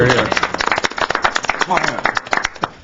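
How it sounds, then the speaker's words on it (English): A small group at a city planning commission meeting claps briefly, a scattered patter of hand claps heard close, with voices talking underneath. "We can certainly clap if you feel so."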